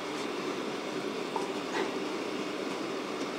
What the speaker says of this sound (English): With that blower on full, it's actually hot enough in there now to do it.